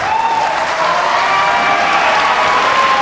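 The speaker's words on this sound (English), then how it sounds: "Listen to this crowd, John." A jam-packed CZW wrestling arena crowd roars and cheers loudly and continuously, with clapping and whistles mixed into a dense, sustained wash of noise during a match.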